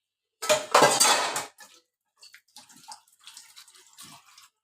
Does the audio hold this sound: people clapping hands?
no